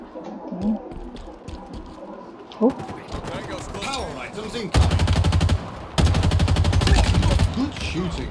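Rapid automatic gunfire from Halo Infinite multiplayer PvP, loud sustained bursts around the middle and end, mixed with scattered single shots, game effects and a voice talking throughout.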